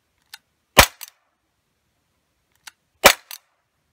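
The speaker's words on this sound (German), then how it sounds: "Ich habe jetzt ja nur 8 Schüsse gemacht." Two sharp shots from an Umarex SA10 CO2 air pistol firing 4.5 mm pellets, each loud crack preceded by a faint click and followed by a brief rattle, spaced roughly two seconds apart with silence between.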